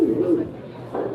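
A voice imitates a pigeon's cooing, a few warbling low coos up close, with a second brief coo after a short pause.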